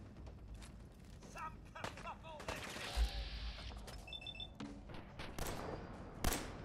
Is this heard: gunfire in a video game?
yes